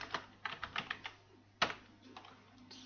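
Computer keyboard typing while entering a short text string in a Java program, a quick run of crisp, close key clicks followed by a louder stroke and a few scattered taps, no talking.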